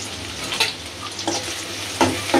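Onions frying in a wok for a Bengali pabda fish bhuna, a steady hiss of oil punctuated by a few louder stirring scrapes, close and with no talking.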